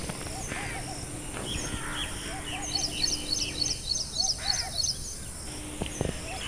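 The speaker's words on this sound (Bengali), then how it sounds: "সেখানে বড় বড় গাছ, বাতাস আর অনেক পাখির শব্দ শোনা যাচ্ছিল" Many birds call among the tall trees of a deep forest, with repeated chirps, short whistled phrases and a rapid twittering run, fairly faint over a soft, breezy background.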